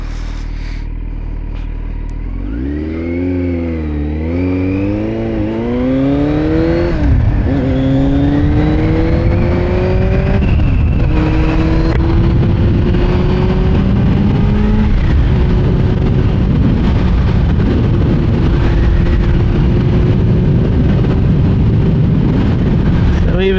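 A 2024 Kawasaki Z900 motorcycle accelerates in road mode, its engine note climbing and shifting through gears in a loud, steady rising drone, then holding a sustained high-revving roar at speed.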